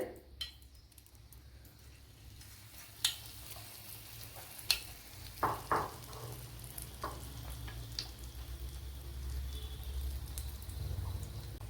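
Snacks frying in hot oil, a steady soft sizzle and bubbling under a few sharp clinks and taps, close and moderate in level, with no talking.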